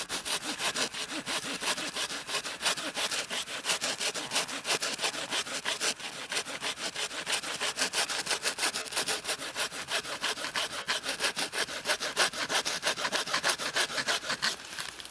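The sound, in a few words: sawing wood with a Bahco Laplander saw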